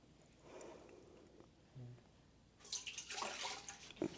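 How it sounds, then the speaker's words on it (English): Milk poured into a mixer, a soft faint trickle at first that turns into a brief burst of louder liquid splashing toward the end, recorded close in a quiet kitchen. "First, we pour a cup of milk into the mixer."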